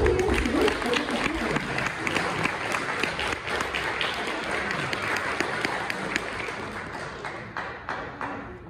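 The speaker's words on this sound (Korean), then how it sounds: "강동환 교수를 큰 박수로 환영해 주시기 바랍니다." Hall audience at a forum in Toronto applauds to welcome a professor to the podium: a dense, lively round of clapping that is loud at first, then thins and tapers off toward the end, with faint voices beneath.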